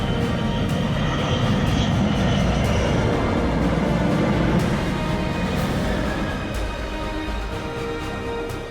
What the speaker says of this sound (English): an even more close-up sighting of the magnificent B-2 bomber as it's captured landing